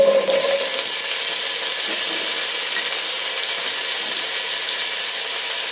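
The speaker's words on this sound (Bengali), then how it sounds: "এখন আমি আলুগুলি ভেজে নেব" Potatoes frying in hot oil in a wok, a steady broadband hiss that swells briefly at the start and then holds level, close and unbroken.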